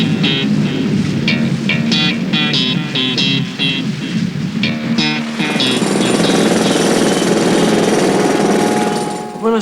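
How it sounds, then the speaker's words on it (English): Road drills hammer away in loud, rapid bursts that run on for several seconds, with a steady, harsh rattle that swells near the end. "Road drills."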